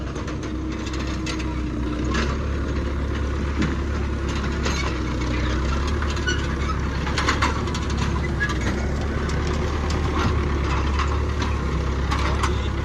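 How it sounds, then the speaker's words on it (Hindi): A tractor engine idles steadily at a rural village roadwork site, a constant low rumble with faint background voices and knocks throughout. "और ये रहा ट्रैक्टर जी"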